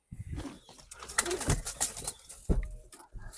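Pigeons in a coop give soft, low cooing calls with a few bursts of fluttering wings, fairly faint and close, with scattered rustling between calls.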